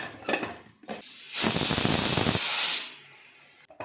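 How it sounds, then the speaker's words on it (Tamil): A pressure cooker whistle releasing steam in a loud, close, sustained hiss lasting over a second, preceded by short steam bursts and trailing off into quieter hissing. "நம்ம லிட்டை க்ளோஸ் பண்ணிவிட்டு ஒரு 2 whistle வந்து விட போகிறோம்"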